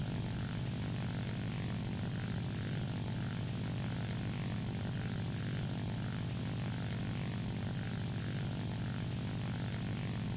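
A J2M2 propeller fighter taking off in a flight combat game, its engine a steady, loud droning roar with a throbbing propeller hum held evenly throughout, no talk.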